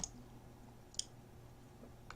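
A mouse button clicks to submit a form, three short sharp ticks spaced about a second apart, close and quiet over faint room hiss.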